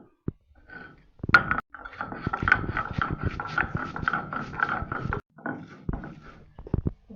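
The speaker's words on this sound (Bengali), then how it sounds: "গাইস চাপা শুটকি ভর্তাটা পাড়ায় পিষে নিতেছি।" Fried dried fish with chili, onion and garlic being crushed on a grinding stone, giving rhythmic scraping and knocking strokes that run for several seconds before stopping, close and fairly loud.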